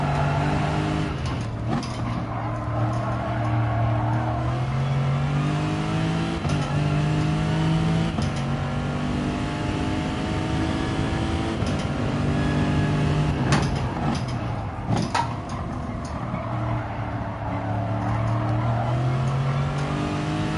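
A race car in GT Sport accelerates out of a corner at the Nürburgring, the engine note climbing through the gears with a loud, sustained howl and brief dips at each shift, with no talk over it.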